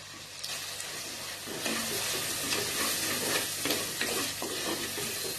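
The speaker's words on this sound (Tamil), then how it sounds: "அப்படியே நல்லா வதங்கட்டும்." Tomato with salt and chili powder sizzles in a pan as it is stirred for a sambar, a close, steady frying hiss broken by scraping strokes, with no talking.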